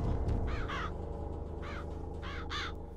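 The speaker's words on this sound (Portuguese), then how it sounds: "Olha só, corvo pra tudo quanto é lado." Crows cawing in the video game Bioshock Infinite, a run of harsh, rasping calls in pairs and short bursts, fairly close and loud over a constant low game ambience, with no talk.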